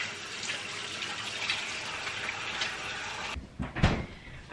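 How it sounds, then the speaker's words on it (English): Water running from a kitchen sink faucet while hands are washed, a steady soft hiss that is later broken by brief splashing and clunking. "I'm gonna stand over here at my dirty kitchen sink and wash my hands."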